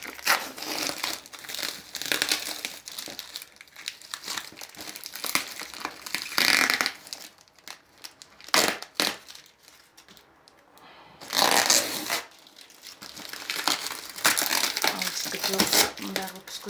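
Crinkly packaging of a parcel is torn and crumpled as it is unwrapped, loud rustling and crackling bursts continuing with short pauses, while a person talks through parts of it.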